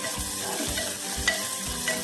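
Chopped onions fry in a pan for capsicum curry, a constant close sizzle broken by rhythmic low scrapes as they are stirred.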